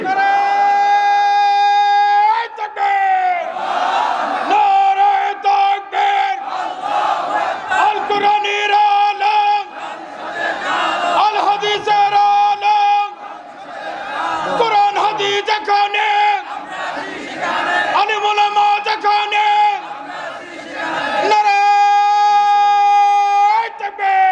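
A large crowd at an Islamic waz sermon in Bangladesh answers a takbir call with loud, sustained chanted shouts in unison, swelling in repeated waves over nearly half a minute, with the preacher's amplified voice mixed in.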